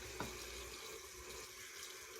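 Cold water runs steadily from a tap into a sink, a continuous faint hiss and splash with a small knock near the start.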